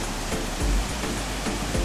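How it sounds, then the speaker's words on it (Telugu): A roadside waterfall near Hyderabad roars in a dense, continuous rush of falling water with soft low thumps from the splashing, heard close and loud with no voices. "చూడండి ఒకసారి మొత్తం వాటర్ ఫాల్ వ్యూ."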